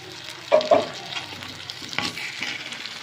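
Two tomatoes dropped into hot oil give a couple of sharp sizzling bursts, followed by softer ongoing frying and stirring scrapes in a pan, close and without speech.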